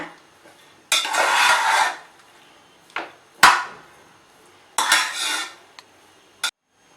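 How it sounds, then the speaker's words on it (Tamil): A ladle stirs cooked mushroom biryani rice in a pot, giving several separate bursts of scraping and clinking against the metal, with short quiet gaps between strokes and no voices. "இப்போது கரண்டி வச்சு மெதுவாக கிளறிக்கோங்க"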